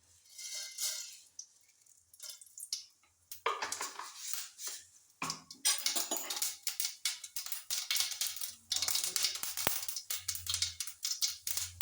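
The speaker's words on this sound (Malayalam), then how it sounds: "കടുക് പൊട്ടി തുടങ്ങി." Mustard seeds popping in hot coconut oil, a burst of rapid, irregular crackles and spits that build after a quiet start, close by with no talk.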